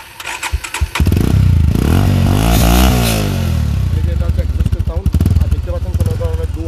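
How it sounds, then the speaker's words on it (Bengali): A Bajaj Pulsar motorcycle, stock, starts up with a short cranking rattle, then its engine revs up and falls back to a lumpy, pulsing idle, loud and close, with someone talking over part of it. "এই যে দেখতে পাচ্ছেন এটা হচ্ছে ইঞ্জিনের সাউন্ড"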